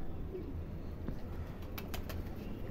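A pigeon with clipped wings coos softly among others, low and faint, with a brief flutter partway through.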